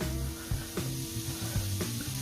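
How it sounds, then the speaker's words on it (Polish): Steady sizzle of onion frying in hot fat, with occasional clinks and scraping knocks, low hum underneath, continuous and moderately close. "Rozgrzałem dobrze tłuszcz i wrzucam cebulę."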